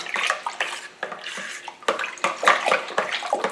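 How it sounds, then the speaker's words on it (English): A vodka and energy-drink flavoured spirit mixture is stirred in a container, making a quick run of close, splashy sloshing and swirling liquid sounds in irregular bursts. "then we're going to give it a good stir, make sure it's all mixed in"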